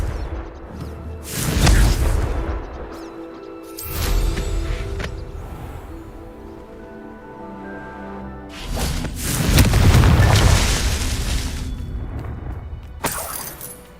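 Confringo spell blasts in the game Hogwarts Legacy, several loud booming explosions with crackling debris, spaced a few seconds apart over a rumbling backdrop, plus a sharp crack near the end.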